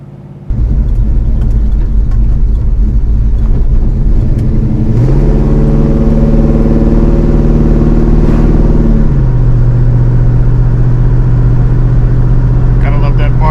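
A deep Chevelle V8 with a Blueprint 383 engine roars steadily up close, rising in pitch as it revs, then settling into a loud, throaty idle rumble.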